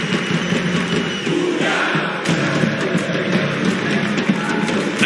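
A large esports arena crowd at the CS:GO Rio Major roars and shouts in a sustained, dense wall of noise, with swells of cheering and scattered yells that carry over the full stretch.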